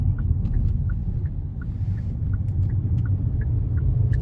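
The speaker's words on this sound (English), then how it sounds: "Yeah, boy, I got some traffic." Road traffic near a stadium gives a steady low rumble of passing cars, continuous and fairly close, with no voices.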